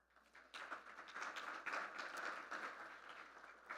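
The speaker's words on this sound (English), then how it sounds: "There's a great round of applause." Applause from a crowd at a civic gathering with the city manager, building quickly from quiet into a fairly faint, busy patter of clapping that holds steady.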